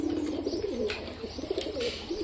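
Domestic pigeons cooing in a low, continuous, throaty murmur close by, with faint rustling and no talk.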